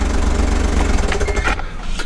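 A small Smart car engine idling loudly up close with a low throbbing rumble, then sputtering and dropping off as it is switched off near the end.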